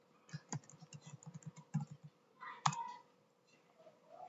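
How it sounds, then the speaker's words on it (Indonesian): Rapid keystrokes on a computer keyboard as a search for a WordPress download is typed into Google, a steady run of close, crisp clicks with one louder tap near the end, no talk. "langsung saja di Google kita ketik WordPress download"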